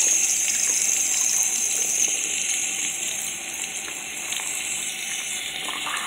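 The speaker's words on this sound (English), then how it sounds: "You get hot soapy water." Hot water running steadily from a tap into a sink, a continuous close, loud gush and hiss with no talk.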